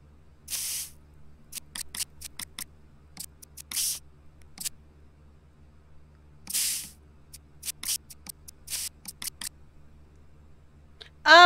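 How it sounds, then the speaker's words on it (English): Short hissing sprays of softening matrix onto dinosaur fossil bones in a fossil-hunting video game, several bursts of varying length over a low steady hum, interspersed with quick clicks and taps. "What am I spraying them with?"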